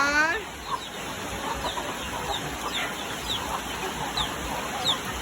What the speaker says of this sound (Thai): โอ้โหลูกเกี๊ยบน่ารักเชียวหาแม่ไม่เจอลูก